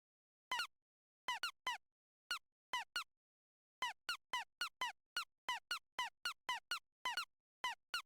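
Bursts of high, bright squeaks from the game Meander Forth, clean and isolated, coming in quick pairs and triplets with short silences between, growing more rapid toward the end.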